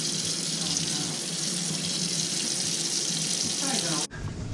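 Water runs steadily from a leaking Moen kitchen faucet, a loud continuous hiss that cuts off abruptly near the end, leaving a quieter tail.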